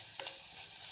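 Spices are stirred into hot oil for a sprats curry, giving a faint, steady sizzle with a brief scraping stir near the start. It is quiet and close.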